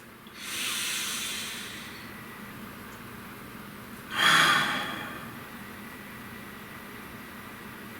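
Two slow, deep breaths taken close up, each a soft airy rush about a second long with a quiet pause between them.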